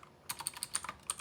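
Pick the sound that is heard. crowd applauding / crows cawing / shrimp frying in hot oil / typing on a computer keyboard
typing on a computer keyboard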